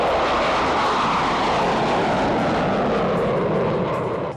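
Fighter jets, Mirage 2000 and Sukhoi 30, flying over mountains in Ladakh, making a loud, sustained engine roar that slowly fades at the end.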